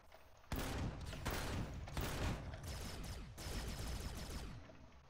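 Repeated shotgun shots in Empyrion Reforged Eden, several heavy blasts in quick succession with reverberant tails running together, fairly faint overall.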